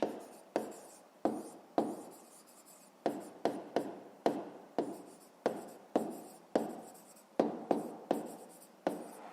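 Pen writing on paper for a fifth-grade maths exercise: a steady series of close, distinct scratchy strokes, each starting sharply and trailing off, with no talk over them.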